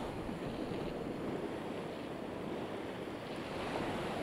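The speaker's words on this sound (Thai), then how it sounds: "คลื่นไม่เคยหยุดนะคะที่จะกระทบฝั่ง" Ocean waves break against a rocky shore in a steady, dense wash of surf mixed with wind rumble, continuous and fairly even in loudness throughout, with no voices.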